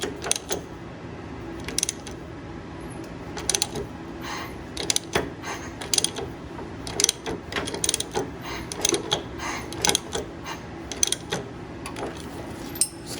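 Ratchet wrench tightening bolts on a VW Bug flywheel and clutch install, a steady run of clicking ratchet strokes and metallic clanks repeating close by across the whole stretch, with no talk.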